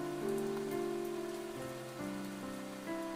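Steady rain falls in a soft, continuous patter, heard under a low, sustained droning tone that shifts pitch a few times.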